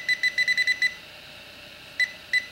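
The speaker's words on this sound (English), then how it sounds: "That's beeping quite loud." A Gold Digger land and sea pinpointer beeps in a quick run of about seven sharp, loud, close electronic tones, followed by two more isolated beeps after a pause.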